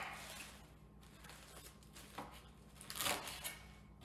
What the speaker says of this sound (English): The big leaves, we're gonna cut so that everything's in bite-sized pieces.